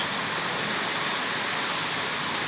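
Heavy downpour hammers on rooftops in a steady, dense hiss of rain that fills the whole stretch without pause, loud and close, with no voices.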